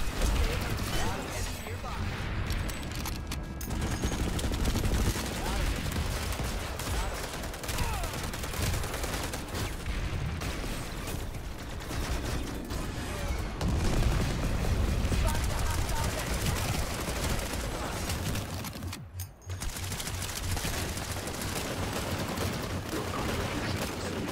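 Revolver gunfire in a video game, with rapid bursts of shots packed into a near-continuous barrage, broken by a brief lull, under game voice announcements.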